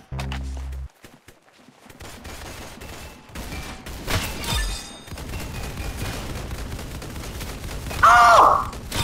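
Gunfire in the video game Arsenal: a rapid burst of shots at the start, then scattered single shots and impacts, with a louder blast near the end, fairly close and without speech.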